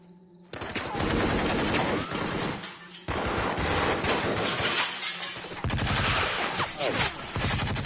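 Heavy gunfire and bullet impacts in a film battle sequence in Uri: The Surgical Strike, with dense bursts of shots, shattering and debris crashing loud and continuous after a brief quiet start, with a short lull near the middle.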